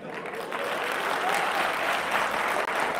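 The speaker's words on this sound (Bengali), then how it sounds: "জোরে হাততালি" An audience claps loudly in a dense, sustained round of applause that holds steady from start to finish without a pause.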